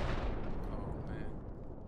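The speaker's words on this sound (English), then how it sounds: "Was that our tank getting hit?" An explosion striking a tank in the World War II shooter game Hell Let Loose, a loud booming blast with a rumbling decay that fills the short moment.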